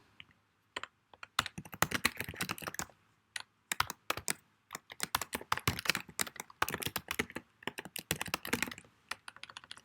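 Rapid, irregular keystrokes on a computer keyboard as code is typed, close and crisp, in bursts with short pauses.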